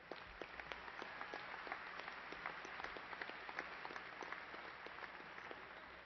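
Steady applause from a commencement audience honoring graduates at Angelo State University's fall ceremony, dense continuous clapping filling the hall at moderate distance for the whole stretch.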